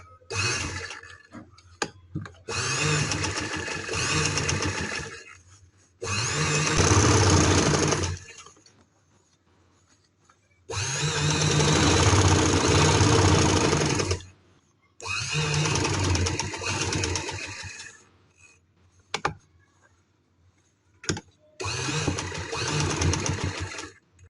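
An electric sewing machine stitching along the edges of a garment neckline, heard in five loud, close bursts of rapid whirring separated by short quiet pauses.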